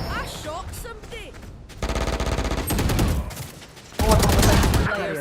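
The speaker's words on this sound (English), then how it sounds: "I shot something" Rapid bursts of video game gunfire, loud and close, come in several sustained volleys with brief gaps between them, dense automatic shooting filling most of the stretch.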